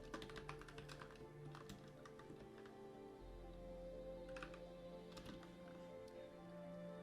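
Computer keyboard typing while entering code for a Minecraft Bedrock toggle sprint mod, with rapid irregular key taps in bursts and short pauses, close and clear over a low steady hum.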